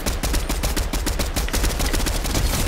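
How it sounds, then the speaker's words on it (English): Gunfire in the battle royale game Fortnite, a dense, continuous stream of rapid shots filling the whole stretch, loud and close. "Someone shooting from down there."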